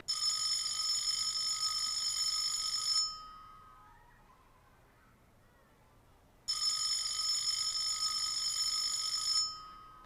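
A telephone rings in a movie, two loud, sustained electronic bursts of about three seconds each, separated by a few seconds of near silence.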